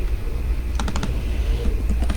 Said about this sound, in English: I was just typing this out